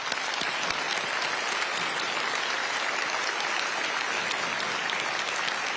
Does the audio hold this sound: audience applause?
yes